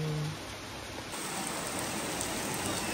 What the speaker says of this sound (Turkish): Dışarıda yağmur yağıyor. Ama nasıl yağmur?